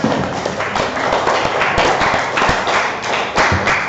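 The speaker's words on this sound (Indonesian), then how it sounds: "Tepuk tangan untuk Nabila." Classroom applause for a student named Nabila, a close burst of many hands clapping at once with uneven, slightly ragged rhythm lasting a few seconds.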